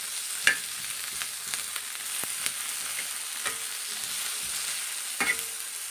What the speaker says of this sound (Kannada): ಈರುಳ್ಳಿ, ನೋಡ್ಬೋದು ಚೆನ್ನಾಗಿ ಫ್ರೈ ಆಗ್ತಾಯಿದೆ